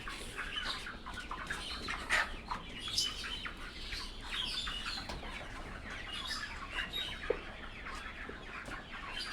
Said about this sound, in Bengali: এখানে প্রচুর পরিমাণে মুরগি এবং তারা পাইকারি সরবরাহ করে থাকে